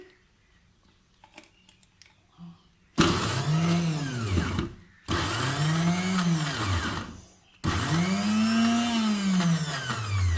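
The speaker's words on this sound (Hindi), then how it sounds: "अब इसको मैं मशीन में डाल के इसको मैं पीस रही हूँ।" An electric mixer grinder runs in three loud bursts with short pauses between them, grinding onion into a paste for Afghani shami kebab gravy, after a few quieter handling clicks.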